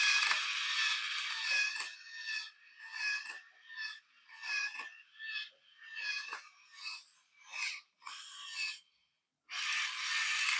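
A Thames & Kosmos orangutan remote control machine runs its shaft mechanism, a close whirring, ratcheting buzz that starts and stops in short repeated bursts with brief gaps between.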